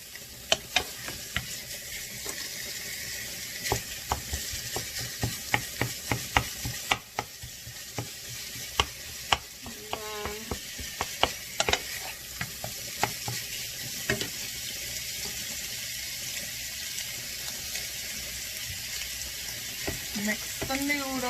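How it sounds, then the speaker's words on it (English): Pork sausage frying in a pan while being stirred and broken apart, with steady sizzling and repeated sharp scraping clicks of a utensil against the pan, close and continuous. "sausage is starting to cook. And you can see it's starting to turn brown. And all I'm doing is breaking it up"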